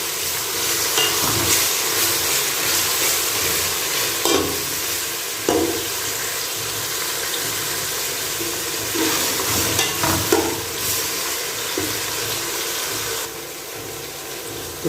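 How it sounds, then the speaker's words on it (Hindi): Mutton frying in a pan with ginger garlic paste while being stirred, a loud, steady sizzle with occasional scraping stirs and bubbling, continuous throughout with no talking. "1 से 2 मिनट लहसुन अदरक के साथ इसकी भुनाई करता हूँ"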